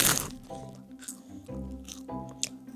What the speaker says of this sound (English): I hear a little crunch already over there.